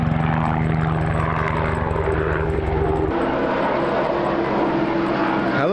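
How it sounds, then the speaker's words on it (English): A steady, loud droning rotor-and-engine roar fills the air near the Stikine River along BC's Cassiar Highway, pulsing continuously with a shift in pitch partway through as the aircraft passes. "Helicopter. Helicopter."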